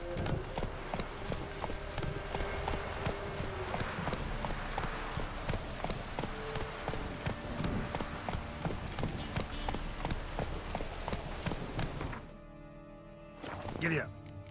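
Horse hooves gallop at a steady, rapid clip-clop in The Witcher 3 on PS5, loud and continuous over music and game ambience for about twelve seconds before cutting out briefly.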